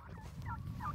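Free-ranging turkeys on a homestead give short warbling gobble calls, faint and somewhat distant, over a low rumble of background noise.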